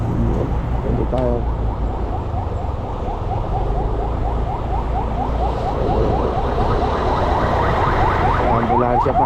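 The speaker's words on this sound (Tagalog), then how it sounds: "Ambulansya pa." A wailing ambulance siren sweeps up and down repeatedly over steady road rumble and engine noise while driving through heavy traffic on a rough, slippery road, with scattered talk nearby.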